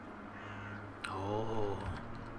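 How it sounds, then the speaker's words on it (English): A crow caws in Dreamfall Chapters, one drawn-out harsh call rising clearly over a steady low ambient game hum. "I wish Crow was with me. I feel less alone with that silly bird around. Isn't he flying right there?"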